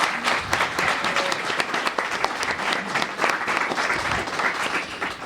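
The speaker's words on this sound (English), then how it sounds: "let's give a round of applause for the candidates" An audience at a Wichita city council District 6 candidate forum claps for the candidates, a lively, fairly close burst of applause lasting several seconds with uneven swells.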